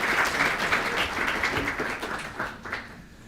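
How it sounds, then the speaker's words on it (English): A lecture audience claps after a discussion on evolution and God, a full burst of applause that gradually thins and fades over a few seconds. "I think a round of applause for that."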